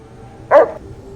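A single short dog bark from a dog companion in the video game Fallout: New Vegas, loud and close, standing alone against a quiet game background.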